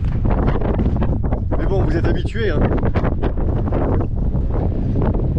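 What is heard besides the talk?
wind on a boat deck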